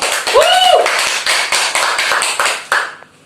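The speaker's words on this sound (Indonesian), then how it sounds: "Berikan aplaus kepada Borno." A classroom applauds a student: a short burst of brisk, close group clapping, with a brief voiced whoop near the start, that fades out after about three seconds.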